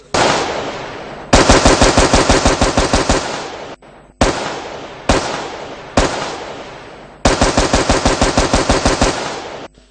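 Loud bursts of rapid automatic gunfire fired at a bus, several long rattling volleys broken by short pauses and single heavy shots, close and sharp.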